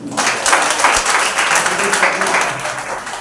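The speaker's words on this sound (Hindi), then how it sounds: "एक जोरदार ताली बजाइए।" Church congregation clapping and applauding together during an Easter Resurrection Sunday service, steady dense applause filling the clip with some voices mixed in.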